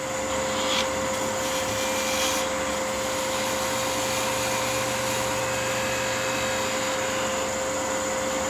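A wood lathe spins a hollowed Christmas ornament while a gouge cuts a bead, giving a steady, loud motor hum with a constant whining tone and faint scraping of the tool, with no talk.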